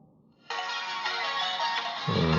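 A Redmi 6A phone plays a ringtone after its buzzer connector was cleaned: a bright electronic melody starts abruptly and rings steadily and loudly close by, with no talking over it.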